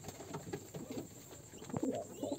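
Racer pigeons in a loft, some of them sitting on eggs, give low soft cooing murmurs over light shuffling and pattering, steady and close throughout.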